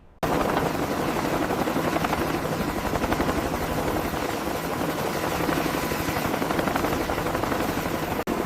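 Military aircraft engines or rotors at Tinian airfield roar loud and steady throughout as troops board, a continuous close drone with a brief dip near the end.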